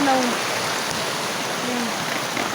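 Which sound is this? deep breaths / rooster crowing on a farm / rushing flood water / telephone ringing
rushing flood water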